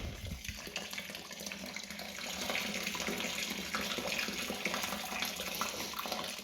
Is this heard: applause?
no